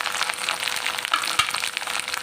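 Masala spices and coconut fry in hot oil for a chicken gravy, a dense, loud crackling sizzle with a brief clatter partway through.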